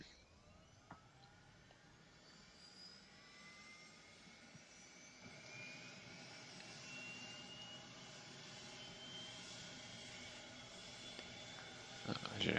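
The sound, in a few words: ATR aircraft engine starting in X-Plane flight simulator video game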